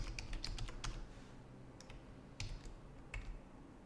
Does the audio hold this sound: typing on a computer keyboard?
yes